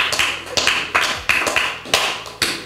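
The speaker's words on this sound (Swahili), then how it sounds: "Pigia Bwana Yesu makofi kama unanielewa jamani." A church congregation claps for Jesus in a steady rhythm, about six sharp, loud rounds of hand claps in quick succession, close and clear.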